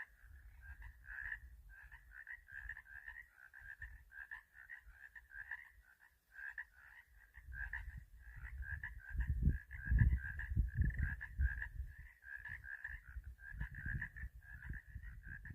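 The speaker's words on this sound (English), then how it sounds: "Frogs are coming out." Frogs croak at Chicken Spring Lake, a high alpine mountain lake, at dusk, a steady rapid chorus of repeated croaks carrying over low rumbling wind noise.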